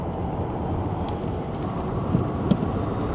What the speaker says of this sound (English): I went through there with 104 kilometers an hour through that corner